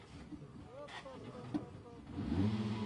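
At the start podium of a rally in Pont-l'Évêque, a rally car's engine idles and then revs up toward the end, rising and growing louder beneath crowd chatter and announcing voices nearby.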